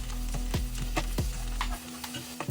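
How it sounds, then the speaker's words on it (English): A spoon mixes tomato sauce into a frying soya chunk curry in a pan, scraping and tapping over a steady sizzle that drops away near the end, close and with no voices. "Tomato sauce, mix it up."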